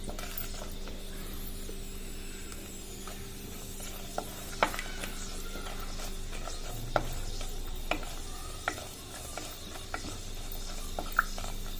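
Dried red chillies and cumin seeds frying in a pan for a vegetable pulusu give a soft, continuous sizzle, with scattered clicks and scrapes of stirring and utensils against the pan, close and fairly quiet, without speech.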